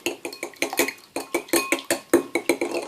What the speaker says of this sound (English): I'm going to go ahead and scramble some eggs for you